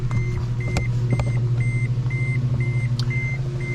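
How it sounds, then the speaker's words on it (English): Toyota truck idling with a steady low engine hum while a regular electronic chime beeps about every third of a second, as if a warning tone sounds around shutdown; no talk. "I'm going to go ahead and shut the engine off."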